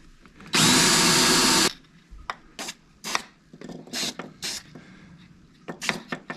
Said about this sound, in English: I'll just make a couple indents and then drill out the hole.